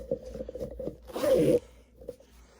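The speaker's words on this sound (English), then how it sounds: "we zipper it up" A zipper on a Nike Therma Flex NBA hoodie pulled shut in one quick, rasping sweep lasting about half a second, close to the microphone, with soft fabric rustling and handling noise before and after.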